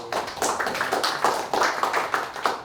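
Applause from an audience at a Labour Day talk in Singapore, a dense patter of clapping hands that holds steady for a few seconds, moderately loud with no talking over it.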